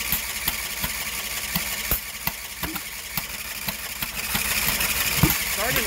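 A 20HP V-twin engine on a Sears Suburban loader cranks on a cold winter start with a spark problem, giving a rhythmic chugging starter turnover and a few sputtering near-fires, with a voice briefly over it.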